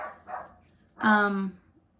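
A single dog lets out one loud, clear bark after a couple of fainter yips, fairly close, with no talk over it.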